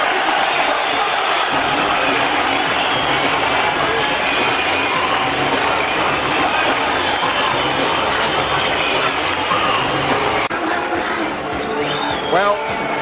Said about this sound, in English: Let's hear the applause from Michael Watson.